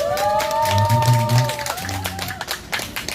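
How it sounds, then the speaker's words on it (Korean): An audience claps for an acoustic guitar club at a community lifelong-learning festival. The applause is steady and close, with scattered cheers, and musical tones ring over it early on. "나비효과 동아리에게 큰 박수 부탁드립니다"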